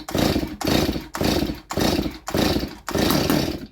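A Stihl MS230 chainsaw revving hard in six evenly spaced bursts, each rising to a loud buzzing roar and dropping between pulls of the throttle, close by with no talk.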